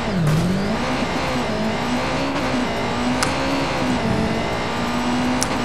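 Car engine in the video game Watch Dogs 2 drones steadily with a rising then level pitch, loud and continuous throughout, with occasional faint clicks and no talking.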